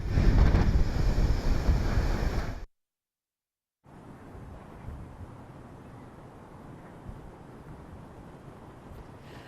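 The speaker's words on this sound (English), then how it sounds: "Blown almost into the street by the wind with a really big gust." Strong gusty wind during a storm roars loud and broadband against the microphone, cuts out completely for about a second, then returns as a steadier, softer rush.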